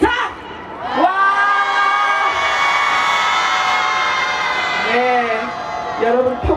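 At a Wednesday rally over Japanese military sexual slavery, a protest crowd lets out a loud, sustained collective shout lasting several seconds, near and full, with a few single voices calling out before and after it.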